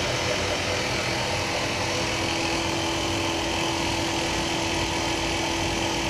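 A 2x72 belt grinder runs with its motor spinning the drive belt, giving off a steady electric hum with a sustained tone over a constant whir.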